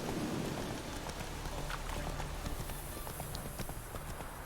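Roach the horse galloping along a road in The Witcher 3, a steady rapid clip-clop of hooves, close and even, with a faint background wash beneath.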